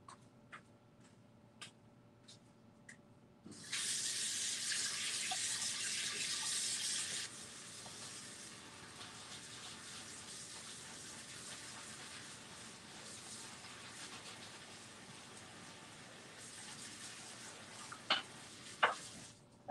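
Water runs from a faucet into a sink during craft cleanup, a loud steady gush that starts abruptly, then settles into a quieter continuous flow, with a few clinks and clicks around it.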